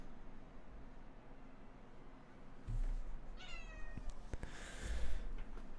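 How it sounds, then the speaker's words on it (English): An agitated house cat meows loudly indoors, a couple of drawn-out wailing calls in the second half after quieter background hiss, with some thumps and shuffling nearby. "Got a cat going crazy in here."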